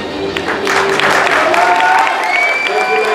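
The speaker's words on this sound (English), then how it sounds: "Round of applause." A crowd at a 2015 bodybuilding show, the Saxon Classic toned class, breaks into loud sustained applause with clapping and some cheering, and faint voices and whistles run through it.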